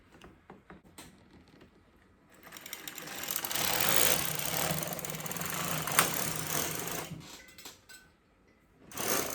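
The carriage of an LK150 knitting machine slides across the needle bed, a close mechanical rattling and clicking swell of a few seconds, framed by softer scattered clicks before and after.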